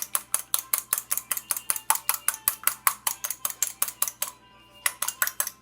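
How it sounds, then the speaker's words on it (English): Eggs are whisked in a bowl for a Trinidad sponge cake, producing brisk, evenly spaced clicking taps at about five per second. The close, crisp strokes stop briefly near the end and then pick up again. "I'm going to be whisking it until it's light and fluffy"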